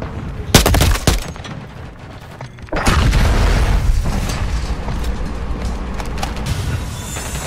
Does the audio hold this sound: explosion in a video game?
yes